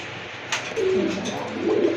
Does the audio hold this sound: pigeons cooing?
yes